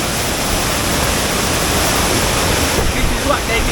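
Cane River Falls in Jamaica pours in a loud, steady, broadband roar of rushing water, close and unbroken throughout, with no clear voices over it.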